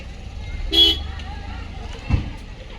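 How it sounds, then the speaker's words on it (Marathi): A car horn gives one short toot on a roadside near Shirur, with a second fainter blip about a second later over low traffic rumble and some nearby talk. "उगाच हॉर्न वाजवतात"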